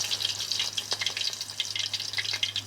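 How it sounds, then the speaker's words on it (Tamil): Cumin seeds and slit green chillies frying in hot oil for masala egg fry: a close, bright crackling sputter with rapid uneven pops throughout, and no voices. "ஜீரகம் பொரிஞ்சதும் 2 பச்சை மிளகாயை நீள்வாக்கில் கீறி அதில் சேர்த்துக்கலாம்."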